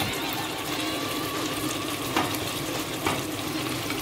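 Chopped tomatoes go into a garden egg (eggplant) stew and sizzle in the hot pot, a steady close crackling hiss with a couple of soft clunks from stirring.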